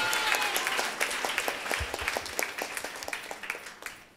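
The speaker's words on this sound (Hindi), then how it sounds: "जब हम यीशु मसीह की तालियां बजाएं तो उस तालियों में आवाज होनी चाहिए।" A church congregation claps steadily together during a Hindi sermon, a moderately distant round of applause with fairly even beats and no talking over it.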